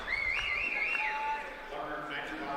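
At a boys high school wrestling championship final, a referee's whistle gives a shrill, warbling trill, loud and close at first and then trailing off over steady crowd noise.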